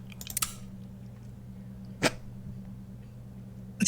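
A single short, sharp sneeze bursts out in a courtroom scene, set between other brief noises against a steady low hum, with no talking around it.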